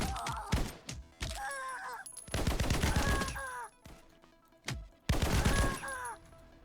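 Gunfire in the video game Gunfire Reborn: several loud, dense bursts of shots separated by short pauses, each burst ringing with a metallic tonal tail.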